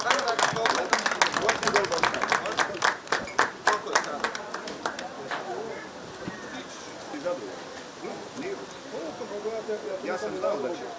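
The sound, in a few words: applause for the horse Valteri and jockey Jozef Parigal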